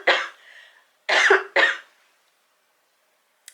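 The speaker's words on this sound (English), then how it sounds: "Ooh, I'm gonna cough." Two sharp coughs in quick succession close to the mic, preceded by a short throaty exhale, then silence and a faint click at the end.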